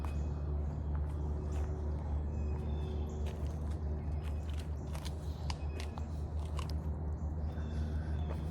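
A pet dog chomps and crunches on food at close range, steady biting and chewing running continuously under a low constant rumble.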